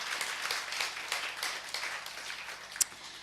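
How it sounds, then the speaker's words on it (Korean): Church congregation clapping in praise during a Korean worship service, a thin, steady patter of many hands at moderate distance, with one sharper clap standing out near the end. "우리 그 하나님께 영광의 박수 돌리겠어요"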